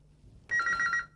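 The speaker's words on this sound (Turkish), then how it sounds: "Telefon." Telephone bell ringing in a TV studio during a live Turkish broadcast, one loud sustained trill burst of about half a second, clear and close.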